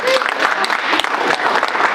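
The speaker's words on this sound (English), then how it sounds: "Let's give her a big round of applause." A press-conference crowd applauds the Lieutenant Governor in a brief, dense burst of clapping, with voices mixed in underneath.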